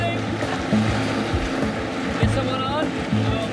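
An unmanned boat runs at full throttle at about 25 to 30 knots, a steady loud engine drone mixed with rushing water and splashing, with talk over it.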